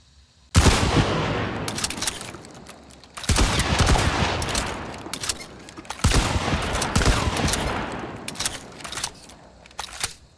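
Romero 77 Alamo shotgun in Hunt: Showdown, three loud, sharp blasts spaced a few seconds apart, each followed by clacking, rattling cycling sounds of the action.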